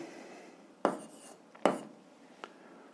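A pen scratches out a handwritten algebra solution on paper, leaving two short, distinct strokes and a fainter third one in a quiet room.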